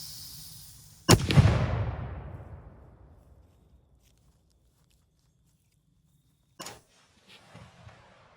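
A single sharp gunshot fired at a water bottle target with a washing machine round cracks close and loud, then decays into a long rolling echo, followed a few seconds later by a brief faint second report and some light rustling.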